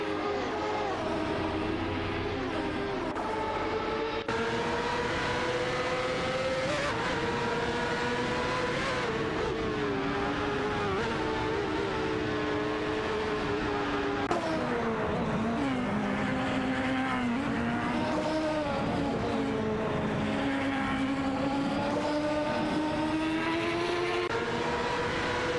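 Race cars in an AI racing video game roar continuously at high revs, several engines layered with shifting pitch as they battle and overtake, loud and steady throughout with no talk.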